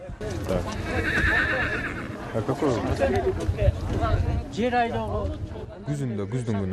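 Horses on a farm in Kyrgyzstan whinny loudly and repeatedly, with hooves clip-clopping and some background chatter mixed in.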